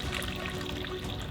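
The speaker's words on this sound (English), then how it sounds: "the stone basin, the tsukubai, and the bamboo pipe with the running water" Water running from a bamboo pipe into a stone tsukubai basin in a Japanese garden in winter, a soft continuous trickle and splash, faint and steady at close range.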